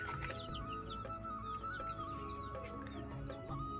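Chickens clucking among kept pigeons, quiet and somewhat distant, with short irregular clucks and bird calls scattered over a continuous low background.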